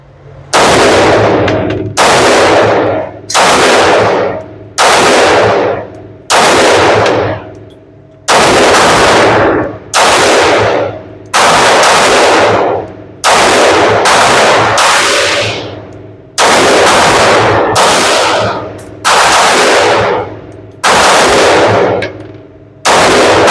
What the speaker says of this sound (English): shooting a different firearm